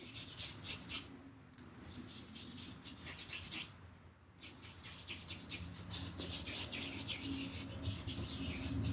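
Pre-shave cream, a creamy sensitive-skin version, being rubbed into the face by hand before lathering with a 1957 Gillette Super Speed razor; a steady close soft rubbing and smearing that carries on throughout, with brief pauses.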